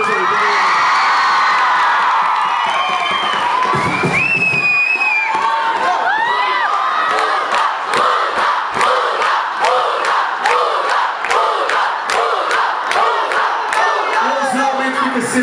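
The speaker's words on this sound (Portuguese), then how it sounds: "Uma salva de palmas para ela." Party crowd at a Belieber fan event in Porto cheering, whooping and shouting loudly throughout, with dense overlapping voices and bursts of clapping in a lively indoor setting.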